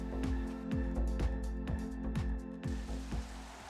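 Rain falling in the Formula 1 97 racing game at a wet Hungary round, a steady hiss layered over a droning engine note that rises and drops with repeated gear shifts.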